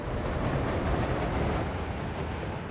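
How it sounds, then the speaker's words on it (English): A freight train in the Workers & Resources video game runs steadily on its rails, loaded and capped at 120 maximum speed, making a dense, continuous rolling rumble with no pauses or talk. "It's too bad the train only goes 120 maximum."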